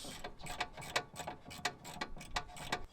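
A hand ratchet clicks rapidly while tightening two brake caliper bolts, a quick, even train of metallic ticks, close and fairly quiet with no talking.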